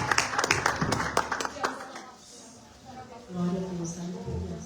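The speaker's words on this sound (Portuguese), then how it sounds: "E as palmas bem fortes para o Senhor." Congregation at a Friday church service claps in quick bursts for the first two seconds, then the clapping fades and a voice speaks over quieter room sound.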